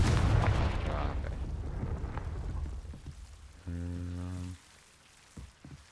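A Confringo fire spell cast in Hogwarts Legacy on PS5 bursts out as a loud, rumbling crackle, then fades into a distinct buzzing tonal hum around the middle before a few quiet clicks.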